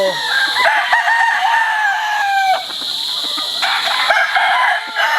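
A California White Claret rooster on a farm crows loudly and close, its drawn-out calls rising and falling, with short clucks and other fowl calling around it.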